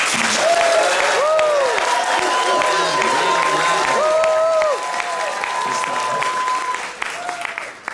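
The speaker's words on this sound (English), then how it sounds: "I'd like to hear your most energetic, motivated, enthusiastic round of applause you could possibly give." Energetic crowd at a Race Unity Day celebration bursts into loud, sustained applause with scattered whoops and cheers, tapering off toward the end.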